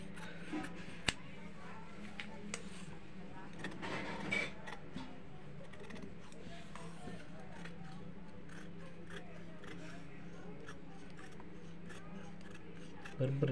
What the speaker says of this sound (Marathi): इथून या फ्रंटला सरळच कापून घ्यायचं.